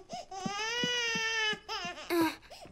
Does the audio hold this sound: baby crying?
yes